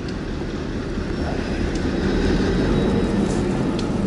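Steady broadband rumble of a train passing at some distance beside a river where people are fishing for flathead catfish, continuous and unbroken throughout.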